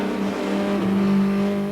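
A 1988 touring race car howls at Silverstone, engine note dropping as it downshifts into Woodcote corner, loud and close with a sustained droning tone.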